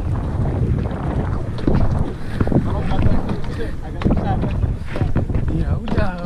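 Wind buffets the microphone outdoors on a boat while fishing, a rough, gusting rumble that rises and falls throughout as people talk over it.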